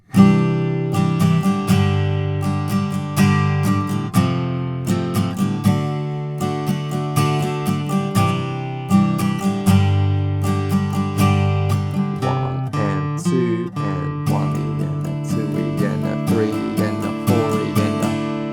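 A guitar strums the chorus of a song as dense, ringing chords in a steady driving rhythm, with a few single-note fills near the end, loud and close with no talking.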